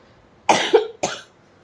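Two close, harsh coughs in quick succession, the first longer and rasping, the second shorter, in a quiet room.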